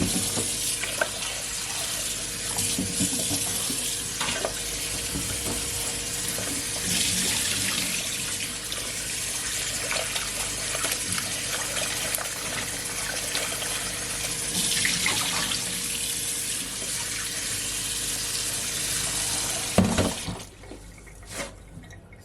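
Water streams from a tap over a coconut being washed, a steady close splashing rush that swells and eases as the coconut is turned, then stops near the end.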